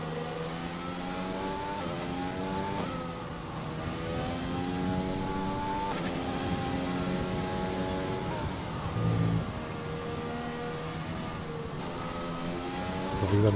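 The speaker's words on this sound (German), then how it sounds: "Ich fahre jetzt mal raus auf die Strecke" A Formula 1 car in the F1 2020 video game pulls out onto the Brazil circuit, its engine revving loud and close through rising gear shifts with repeated upward sweeps.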